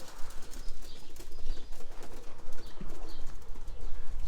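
Roller pigeons take off together, their wings flapping in a dense, continuous rustle close by, with faint cooing and bird calls mixed into the busy outdoor sound.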